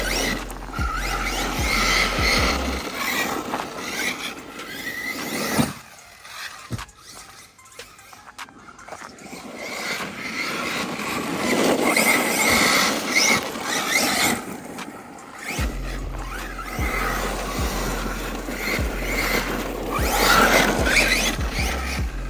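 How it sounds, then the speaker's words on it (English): A Hobao SSTE RC car on 6S power slides around on gravel, its tyres squealing and scrabbling in loud, close bursts with a quieter break in the middle. "I'll do this to these tyres, sliding it round on this gravel"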